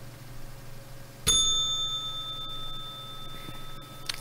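A single bright bell strike rings out close and clear, its metallic tone lingering and slowly fading over about three seconds in an otherwise quiet setting.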